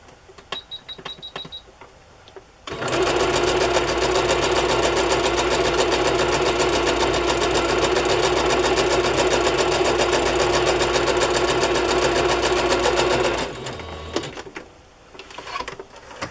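A sewing machine runs a long basting stitch across chiffon and tulle ruffles, a loud, close, steady mechanical hum for about eleven seconds before stopping, with faint handling sounds before and after.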